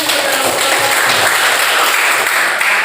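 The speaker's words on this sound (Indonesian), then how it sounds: "Tepuk tangan" A classroom group gives a loud, dense round of applause after an Islamic religious education lesson, with steady clapping throughout and no speech.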